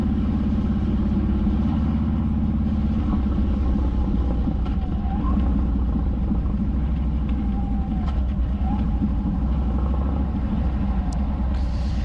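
A car rumbling past on a road near a small, nearly abandoned Texas town by the Brazos River, a steady close engine drone that holds for the whole stretch with no talking.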